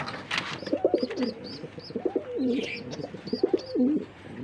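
Pigeons coo repeatedly at a Bengali pigeon farm, a throaty rolling call that rises and falls several times close by, with faint high chirps from other birds in the background.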